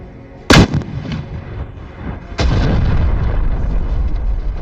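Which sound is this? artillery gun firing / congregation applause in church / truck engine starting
artillery gun firing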